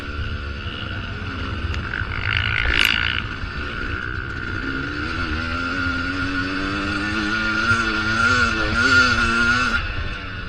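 Dirt bike engine at the NMA Eddieville Spring Opener race, working along a motocross track section; a steady, loud motor drone that rises and falls in pitch with revving throughout, with no talk over it.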